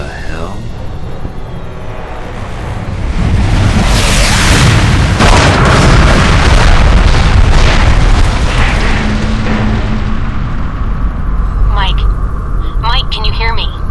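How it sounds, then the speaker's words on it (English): Missile strikes in the video game Alpha Protocol: loud, rolling explosions build into a sustained roar of blasts and debris, with voices and radio-style chatter heard over the chaos toward the end. "I'm tracking multiple missiles homing in on your coordinates."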